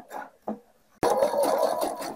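A sewing machine fitted with a 4 mm twin needle stitches decorative seams: after two short taps, a steady, close, whirring run of stitching starts and continues to the end.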